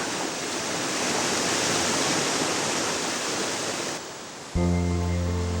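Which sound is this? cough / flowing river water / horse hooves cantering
flowing river water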